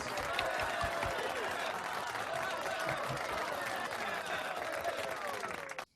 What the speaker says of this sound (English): give Joe a round of applause